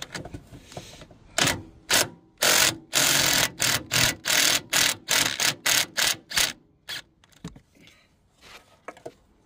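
A ratchet with a chrome socket works the front strut bolts on a 2007 Kia Sorento, making about a dozen quick, evenly spaced mechanical bursts up close. They then trail off into softer scattered clicks.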